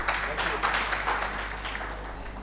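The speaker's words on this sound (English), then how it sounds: "Can we please have a big round of applause," The audience at the inauguration of an urban infrastructure business summit breaks into brief, dense applause that fades slightly toward the end, with a low hum underneath.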